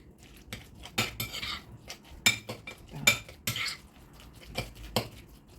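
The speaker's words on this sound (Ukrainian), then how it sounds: "Добре перемішуємо. Спочатку яйця з творога." A spoon stirs eggs and cottage cheese in a bowl for lazy khachapuri, giving a run of close, clinking scrapes against the dish in uneven bursts with short pauses between.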